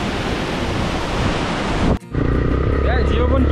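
Strong wind roars across a hilltop near a temple, a loud broadband rush buffeting the microphone, briefly cutting out before resuming with faint voices audible beneath it.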